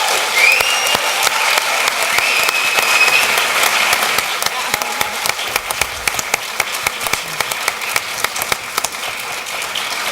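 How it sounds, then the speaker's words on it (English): Loud, sustained applause from the audience at a Hayward Honors Women panel event in 2015, dense clapping that thins into scattered claps toward the end, with some voices mixed in. "How about a big round of applause for our panelists?"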